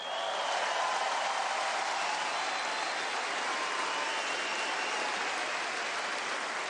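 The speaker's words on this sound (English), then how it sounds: "A big round of applause for our two finalists tonight" A large stadium crowd applauds at the trophy ceremony of the 2014 Australian Open women's final between Li Na and Dominika Cibulkova, with a dense, continuous roar of clapping at steady volume.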